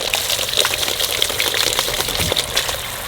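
Water runs steadily as goat trotters for paya soup are washed, a loud continuous gush and splash close by with small knocks of the trotters mixed in.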